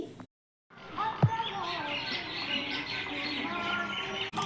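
Many small birds chirp and twitter continuously in a busy evening chorus, with a person speaking over it.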